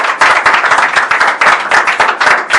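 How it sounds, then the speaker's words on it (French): A small group in a radio studio claps hard for the guests, loud close-up rhythmic hand claps in quick bursts with distinct individual smacks. "Je ne sais pas si c'est trop demandé à ceux qui sont là d'applaudir très fort quand même."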